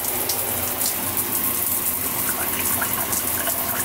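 Water gushing steadily from a tiny house shower, a continuous close, even rush with no talk.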